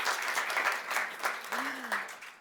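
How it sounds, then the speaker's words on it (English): An audience claps in a sustained round of applause at a conference on the global stroke crisis while a voice speaks briefly over it. "A round of applause."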